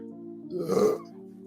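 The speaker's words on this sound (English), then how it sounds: "That's a bad burp." A single drawn-out burp rises and falls over a steady low hum, loud and close, swelling to a rough peak in the middle before fading back.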